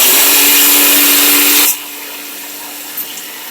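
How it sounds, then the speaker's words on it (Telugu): A mixer grinder whirs loudly at full speed while blending a peanut chutney with salt and a little water, then stops abruptly, leaving a quiet room. "మిక్సీ పట్టేద్దాం"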